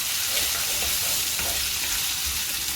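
Onions, mustard seeds, ginger garlic paste and curry leaves fry in hot oil, giving a steady, dense sizzle and crackle that runs without a break and without talk.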